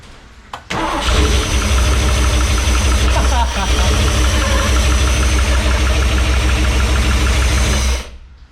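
A 454 Crusader marine engine in a 35 ft Silverton boat fires right off after a brief crank, then settles into a loud, steady running rumble that holds for several seconds before cutting out.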